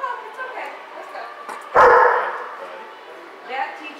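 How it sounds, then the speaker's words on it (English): A dog barks at passers-by walking down the street, one loud sharp bark burst standing out near the middle, then a softer yelp later, with people talking throughout. "With Ava, the way she barks at the people walking down the street"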